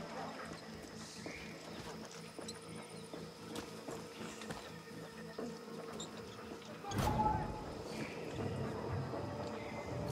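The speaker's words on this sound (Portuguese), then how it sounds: "Que isso? Um cavalo?" A horse in the video game Far Cry 6 clip-clops with soft, rhythmic hoof steps amid quiet game ambience, followed by a louder burst of movement near the end.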